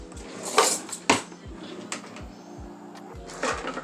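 A spatula scraping and clanking in a pan while lifting cabbage rolls, a few sharp metallic hits and scrapes over a steady low mechanical drone, with no talking.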